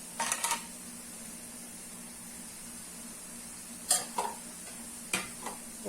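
Boondi frying in oil for a Diwali sweet, a soft low sizzle punctuated by a few short scraping and clinking bursts of a spoon stirring in the pan, with no voices.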